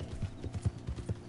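Horse hooves clip-clopping in Red Dead Redemption 2 Online, a steady rhythmic trot of about ten soft thudding hoofbeats, close and moderately quiet, with no talk.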